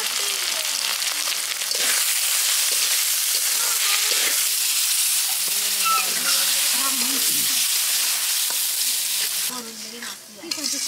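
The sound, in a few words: rooster meat frying with garlic, ginger, cumin, turmeric, chili paste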